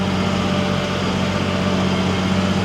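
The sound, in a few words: old farm tractor engine running at about 2,200 RPM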